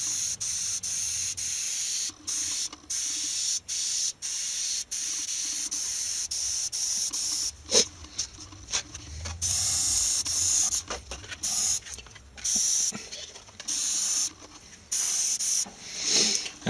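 Aerosol or airbrush paint hissing in short, steady bursts while a stylistic flame design is sprayed freehand, with light passes broken by brief pauses, close and fairly loud with no talk.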